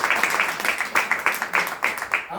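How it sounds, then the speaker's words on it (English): Audience at a motivational talk clapping in unison, a steady rhythmic beat of about four claps per second that stops abruptly at the end. "Can y'all clap it up for me one time?"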